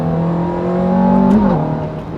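A Ferrari F430's naturally aspirated engine revs hard to 8,500 RPM, its tone climbing and then dropping, loud and close.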